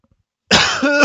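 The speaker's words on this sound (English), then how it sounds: "I do apologize for the coughing." One harsh, chesty cough from a man with a cold, loud and close to the microphone, a rough burst lasting about half a second after near silence.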